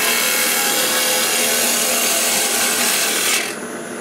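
A sharpened carbide tool cuts wood in a loud, steady rasping stream that runs unbroken for several seconds, then drops off abruptly near the end.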